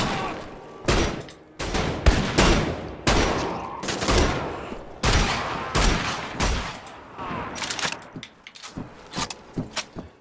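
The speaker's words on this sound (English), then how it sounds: "all these gunshots are echoing all over the place" Bursts of gunfire in the video game Wolfenstein: The Old Blood crack and echo repeatedly, heavy volleys and single shots overlapping with reverberant tails, loud and chaotic throughout.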